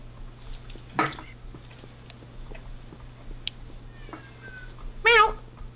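A drawn-out, wavering meow sounds near the end, close and fairly loud, among scattered clicks, faint footsteps and a low steady hum during a competitive CS:GO match.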